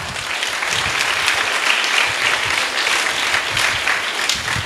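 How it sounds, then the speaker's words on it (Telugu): A crowd at a church festival for Our Lady of Good Health claps loudly and steadily for several seconds, a dense continuous applause with no speech over it. "గట్టిగా చప్పట్లు కొట్టుకోండి"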